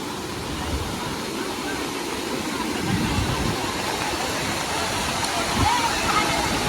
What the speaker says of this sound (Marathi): मित्रांनो, पाण्याचा फ्लो बघा किती फास्ट आहे